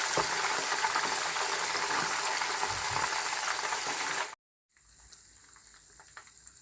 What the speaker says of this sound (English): I'm going to fry the fish first